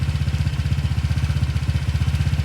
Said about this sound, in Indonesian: Dan suara mesinnya pun cenderung lebih senyap